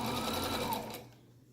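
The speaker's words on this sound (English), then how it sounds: "Start sewing again." A sewing machine runs a fast, steady line of stitching up close, then slows and stops after about a second, leaving a faint fading hum.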